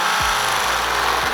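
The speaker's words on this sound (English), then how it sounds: "Grab the size of the drill bit that you used to drill the hole for that Rivnut and then just carefully start drilling" A power drill grinds out a Rivnut on a 2019-or-later Mercedes Sprinter, a loud, continuous buzzing whine up close with small shifts in pitch as the motor loads.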